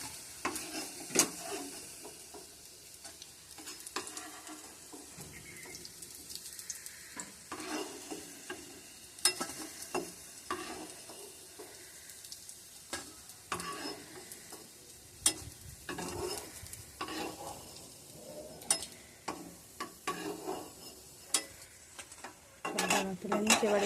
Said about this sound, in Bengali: আমাদের ভাজা হয়ে গেছে বড়াগুলো, এবার আমরা তুলে নেব।